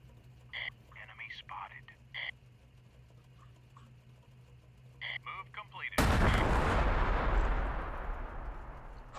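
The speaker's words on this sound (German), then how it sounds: "Oh, ich habe irgendwo Artillerie gehört." Artillery fire in the WWII combat game Close Combat: The Bloody First during a night attack, a sudden loud broadband blast that rolls on and fades slowly, after quiet whispered talk.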